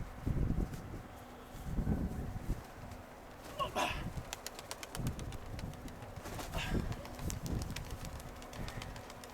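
Pigeons cooing and flapping their wings outdoors, with a burst of wingbeats in the middle and a steady low hum underneath.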